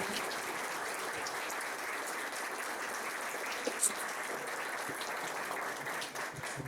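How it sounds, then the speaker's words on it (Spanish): An audience at an economics debate gives steady, full applause for an introduced speaker, an even wash of many hands clapping with no voices over it. "Un fuerte aplauso para Eugenio Guerrero."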